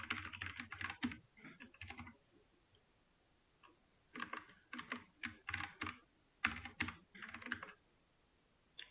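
Code is typed on a computer keyboard during a Java programming lesson, in quick bursts of soft key clicks separated by short pauses, quiet and close, with no voices.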